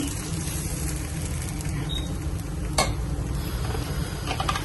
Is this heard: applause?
no